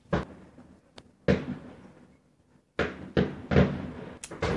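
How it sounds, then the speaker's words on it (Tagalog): Fireworks go off outside a house at night, heard from indoors as scattered dull bangs and cracks, a lone early burst followed by a denser run of pops toward the end, fairly faint and distant. "merong pa-fireworks display sa labas ng bahay namin"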